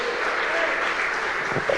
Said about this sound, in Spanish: Dale un fuerte aplauso de alabanza.